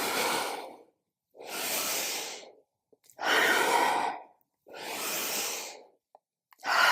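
Slow, steady yoga breathing sounds up close: four long, airy breaths roughly a second and a half each, alternating exhales and inhales separated by short silent pauses.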